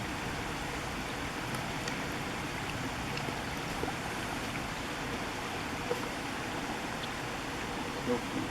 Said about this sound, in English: So this is a creek crossing here.